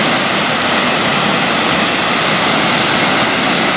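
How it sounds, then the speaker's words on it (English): A waterfall in Laos near Pakse, a loud, dense, continuous roar of falling water, close and steady throughout, with no talk. "Actually a pretty neat falls at this time of year."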